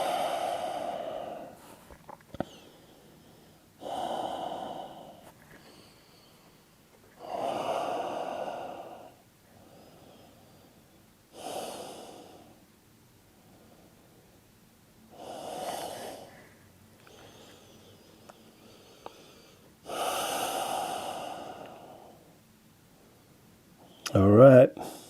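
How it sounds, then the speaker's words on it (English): Slow, deep breaths during a yoga flow from balancing into standing poses, each long exhale rising and fading in a steady rhythm with quiet gaps between, close and soft, ending with a brief louder rustle. "Let me breathe, soften."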